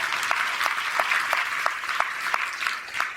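A congregation at a church sermon in Pind Bodla claps in a dense, sustained round, with sharp rhythmic claps standing out at a steady beat throughout.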